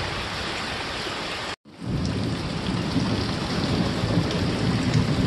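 Heavy rain from a hurricane in El Salvador pours steadily with a deep rumble of thunder, broken by a brief moment of silence before the downpour resumes, loud and close.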